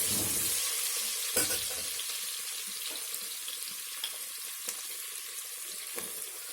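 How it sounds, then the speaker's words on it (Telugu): Chopped onions frying for chicken kofta biryani, a loud continuous sizzle and crackle with scattered clicks of stirring, close and without talk. "వేగం ఆనియన్స్ వేగుతాయి కదా."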